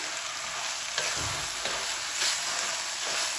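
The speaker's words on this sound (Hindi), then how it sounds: "अभी 3 मिनट इसको मसाले के अंदर हम इसकी अच्छी तरह भुनाई करेंगे।" Turnip peels roasting in masala in a pan with no water added, a loud steady frying hiss close up, with occasional scrapes and clinks from stirring and no voices.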